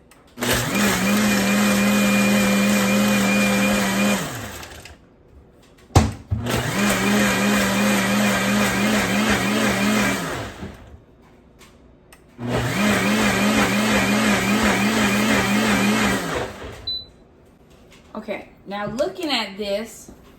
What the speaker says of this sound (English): And then we're going to crush the ice.